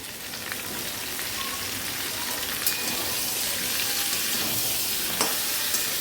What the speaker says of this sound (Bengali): আমগুলো পাঁচফোড়ন দিলাম, তেল দিলাম, শুকনো লঙ্কা দিয়ে আমগুলো ফ্রাই করছি